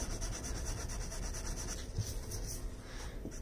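Fine sandpaper rubs steadily over the clearcoat of a Golf GTI, producing a quiet, continuous close-up hiss with a faint back-and-forth pulse and no talk.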